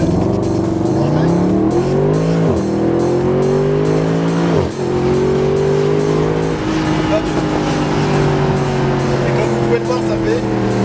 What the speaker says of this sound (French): C'est vraiment le bruit du V8.